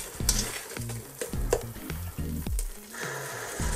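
Sugar caramelizes with steady sizzling and frying in a hot pan, with repeated stirring scrapes and clinks, close and fairly loud throughout.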